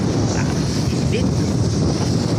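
Steady broadband wind buffeting a microphone outdoors on a hot, breezy day, a constant low rumble and hiss filling the whole stretch with no break.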